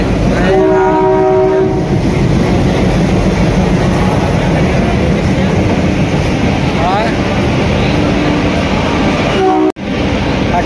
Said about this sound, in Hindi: ट्रेन आ गया गाइस